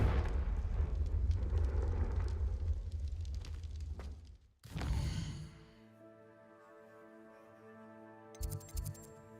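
A Confringo blasting spell in the Hogwarts Legacy video game sets off a rumbling explosion, then a sharp second burst around midway. Fiery crackle follows, and sustained tonal game effects and a brief sparkling chime come after, all without talk.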